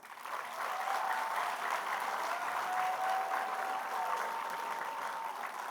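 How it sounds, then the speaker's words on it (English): Applause for graduates at the Class of 2023 graduation ceremony at Sunmarke School, a steady, moderately distant wash of many hands clapping continuously throughout. "One more round of applause for our graduates."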